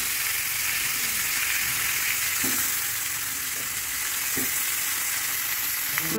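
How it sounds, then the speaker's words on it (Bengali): Fish sizzles steadily in hot oil in a wok, a dense, continuous crackling hiss close up, with a few soft clinks of stirring and no talk. "সবগুলি মাছ দিয়ে ভালোভাবে ভেজে নেব"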